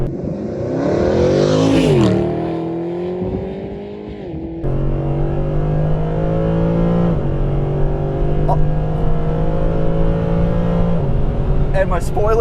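A Mercedes AMG SLS engine revs hard and accelerates, a loud, sustained growl climbing in pitch with a dip and gear change, then holding a steady deep roar; a voice speaks over it.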